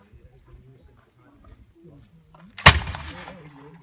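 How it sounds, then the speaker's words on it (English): Musket volley at a Fort Ticonderoga firing demonstration, a single loud sharp crack with a trailing rumble, following quiet talking and background murmur. "Then we'll start this range, commence fire."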